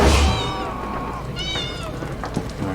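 A game cat meows a few times in a fantasy role-playing quest, its high wavering cries clear over a soft game backdrop with faint voice-like murmurs mixed in.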